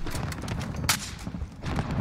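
Dense, continuous rumble of distant gunfire and blasts from Call of Duty, with one sharper crack standing out midway.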